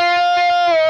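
An electric guitar plays through an Engl amp head on its normal, full-sounding tone, ringing out a single short, loud sustained note with light picking noise.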